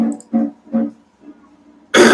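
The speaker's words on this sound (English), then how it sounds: "I will cough a lot throughout the video" A person nearby coughs and clears their throat in a short series of three rough bursts, a quieter rasp, then a louder harsh cough at the end, with no talking.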